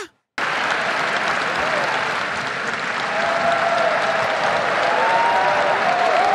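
Loud, sustained applause from an audience at a State of the Nation Address, clapping steadily and unbroken after a brief silent start, growing slightly fuller toward the end.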